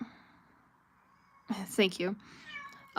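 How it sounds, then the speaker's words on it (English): An indoor cat cries for attention with a few loud, close, wailing meows in quick succession. Someone talks quietly before and after the meows. "Please ignore the cat in the background."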